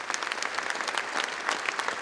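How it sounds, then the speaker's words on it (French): Steady, dense clapping from a seated audience at a rugby club's 70th anniversary evening, applauding volunteers; a continuous patter of many hands, fairly close. "Vous pouvez encore les applaudir."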